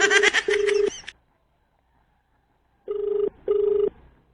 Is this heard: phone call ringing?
yes